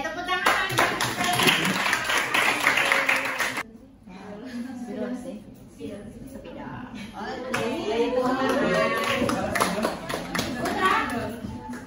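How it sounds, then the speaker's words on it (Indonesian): Students in an economics classroom clap briskly together for a few seconds, then the clapping stops. Afterward, murmuring children's voices and chatter fill the room. "Ya, tepuk tangan."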